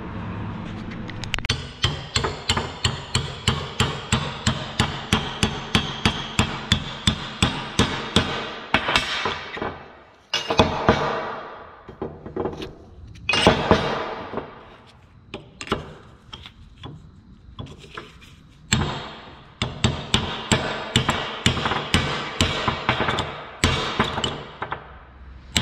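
Hammer striking to drive out an axle key: a rapid run of loud, ringing metallic blows close by, then irregular clusters of hits separated by short pauses.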